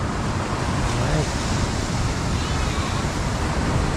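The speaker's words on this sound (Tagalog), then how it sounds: "Malakas ang alon." Strong waves surge at Tumok, Agno, Pangasinan in a dense, unbroken roar of surf that stays loud and close without pause.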